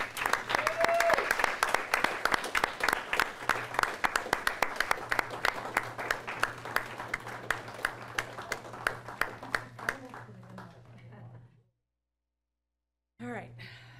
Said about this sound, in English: So a huge round of applause for